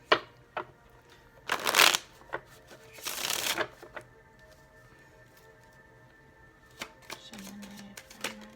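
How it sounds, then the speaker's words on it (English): A deck of cards gets shuffled nearby: two distinct riffle bursts, crisp and fluttering, framed by light taps and handling clicks in an otherwise quiet room. "one more shuffle"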